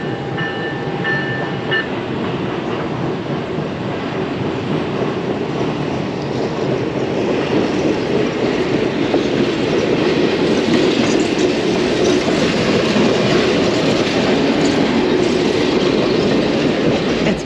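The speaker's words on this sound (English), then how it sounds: "I saw a train coming the other way." A train runs steadily through a tunnel near Homer, Alaska, a dense rumbling roar with faint clickety-clack, growing slightly louder toward the end.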